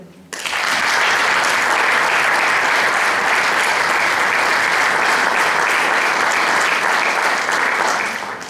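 Loud, sustained applause from a full audience at a book launch, starting abruptly and holding a dense, even roar of clapping for about eight seconds before easing slightly at the end.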